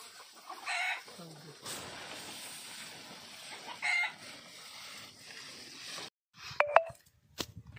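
Chickens on a farm where goats are kept cluck in short, close bursts separated by quiet gaps, ending with a sharper flurry of clucks.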